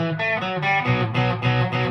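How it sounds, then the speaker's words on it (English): Electric guitar, a 1960 Gibson Les Paul tribute, played through a dirty boost gives sustained, harmonically rich distorted chords. Several strummed changes ring loud and close, with no talking over them. "So it's not a clean boost, it's a dirty boost."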